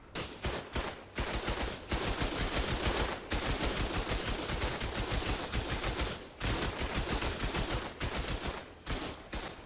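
Turret gunfire in the video game Ark during PvP, loud rapid automatic bursts in dense repeated volleys with brief gaps, no talking.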